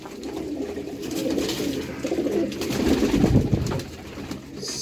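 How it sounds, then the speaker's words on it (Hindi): Sialkoti pigeons coo in a steady, soft stream of low throaty calls that swell and fade over several seconds, close by, with faint background noise and no speech. "सियालकोटी कबूतर"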